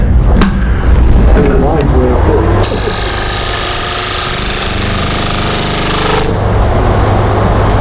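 A lathe turns plywood for a lamp, the cutting tool grinding harshly against the spinning wood and swelling into a loud, steady scraping cut before easing off near the end.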